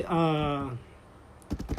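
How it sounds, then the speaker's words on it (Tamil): Someone speaks at first, then after a pause a short burst of computer keyboard keystrokes clicks close by in quick succession. "நான் திரும்ப டைப் பண்ணுறேன்"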